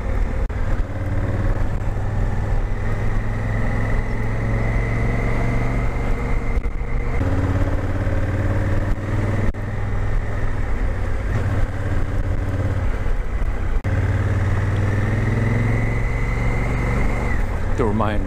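A heavy motorcycle rolls along a dirt road detour on a formerly paved route, its engine droning steadily and close with a few shifts in pitch, while someone talks over it throughout.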